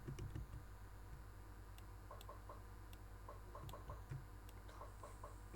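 Chicken clucking in a SkyWars video game, short clucks repeating at intervals over a steady low game hum, with keyboard-like clicks mixed in.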